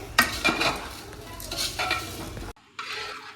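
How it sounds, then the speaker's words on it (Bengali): Khichuri of rice and dal being stirred in a pot during a Bengali Kartik Puja cooking: a spoon scrapes and clatters against the metal pot in several strokes over a light sizzle, then a short pause and one more scrape. "এতটা পরিমাণ খিচুড়ি প্রথমবারই রান্না করছি"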